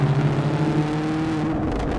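A 2019 Camaro SS 1LE V8 with active rev match burbles through its exhaust, loud and close, with low throbbing pulses settling into a steady rumbling drone.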